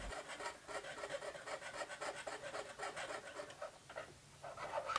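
A silversmith hand-files excess metal from a piece, producing a steady, close rasping rhythm of repeated strokes with brief pauses, and no talking.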